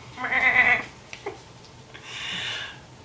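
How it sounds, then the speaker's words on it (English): A goat gives a short bleat, then a few soft clicks and a second, fainter bleat, all brief and close. "The goat says, "Bah!""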